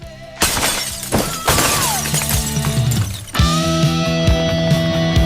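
A glass ceiling shatters in three separate bursts of crashing, tinkling glass, loud and close, each followed by scattering shards and ringing debris.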